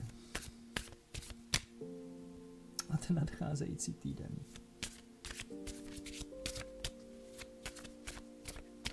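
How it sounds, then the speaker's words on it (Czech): Cards are riffled and shuffled close by in quick bursts of crisp flutters and taps, with a quiet voice speaking over them. "Tak si tady zamíchám karty."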